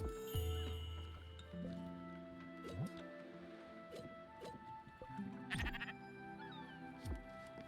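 Sheep bleating in the Spiritfarer video game, several separate bleats over about eight seconds against soft in-game ticking and tonal background sounds, no speech.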